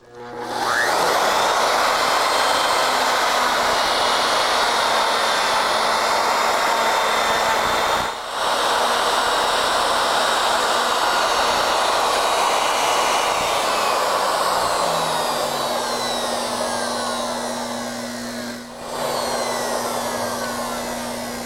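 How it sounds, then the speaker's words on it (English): A router with a 2704 surface planing bit mills a flat surface on a Legacy Ornamental Mill, a loud steady high-pitched whine with two brief dips where the cut pauses, running continuously without speech. "Now I've changed the router bit back to the 2704, the surface planing bit, so that we can mill a flat surface"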